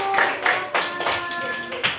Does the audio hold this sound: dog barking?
no